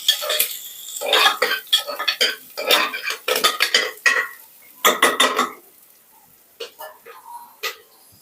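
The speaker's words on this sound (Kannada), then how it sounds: "ಈರುಳ್ಳಿ ಒಂದು ಸ್ವಲ್ಪ ಬಣ್ಣ ಬದಲಾಗೋವರೆಗೂ ಸ್ವಲ್ಪ ಹುರ್ಕೋಬೇಕು." Onions are stirred and fried in a pan for South Indian style broiler chicken sambar. A spatula scrapes and clatters against the pan in quick bursts over a soft sizzle, then the stirring thins out into a few scattered taps.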